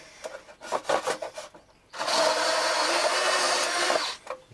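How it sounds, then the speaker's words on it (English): A blunt drill bit grinds into a workpiece in a steady rasping burst of about two seconds, preceded by several short scraping strokes and followed by a brief scrape, close and fairly loud. "I think that drill's a little blunt."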